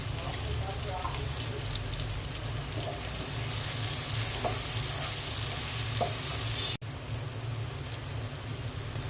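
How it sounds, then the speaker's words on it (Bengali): Onion frying with cardamom and cinnamon in a pan gives a steady, dense sizzle throughout, with a few soft stirring clicks and a brief dropout near the end. "পেঁয়াজটা হালকা ভেজে নেব।"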